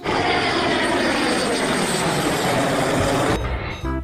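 A fighter jet roars steadily in the video game Jurassic World Evolution 2, a loud continuous engine rush that cuts off abruptly near the end.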